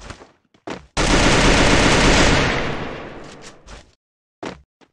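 Automatic gunfire in the Free Fire battle royale game: a loud, sustained burst of rapid shots lasting about two seconds, followed by a few short, sharp single shots scattered before and after.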